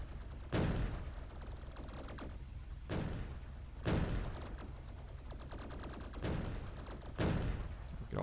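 Turret gunfire in the video game Factorio, loud bursts of rapid shooting arriving in separate volleys roughly every one to one and a half seconds, each sharp onset decaying into a steady rattling din.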